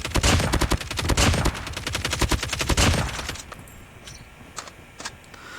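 Rapid automatic bursts from an LK24 rifle in Call of Duty, loud and close, a steady rattling stream of shots for about three seconds before trailing into faint scattered clicks and quieter distant pops.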